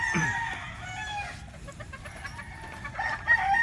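A fighting rooster crows nearby, its strained call rising over a background of chickens clucking and farmyard murmur.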